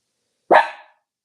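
A dog gives one sharp, loud bark up close, standing alone in otherwise silent surroundings.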